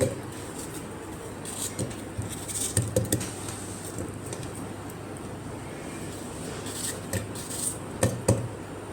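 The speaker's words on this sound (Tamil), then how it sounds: "இந்த மாதிரி பொடிசாக கட் பண்ணி போட்டுருணும்" Fruit is chopped with a knife into small pieces for a summer juice, producing light, irregular taps and thuds on a cutting board, some in quick clusters, fairly faint and close.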